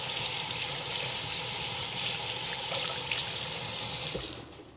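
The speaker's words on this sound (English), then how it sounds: "I'm gonna go rinse off this fork real quick." A fork rinsed under a running kitchen tap: a steady, close hiss of water pouring into the sink for about four seconds before the flow stops abruptly.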